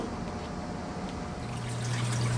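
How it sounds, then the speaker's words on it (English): Continuous trickling and running water as the trough of a Manitowoc NEO ice machine fills during its cleaning cycle, a steady close wash of liquid noise that swells slightly toward the end. "It'll take a moment for the water trough to fill"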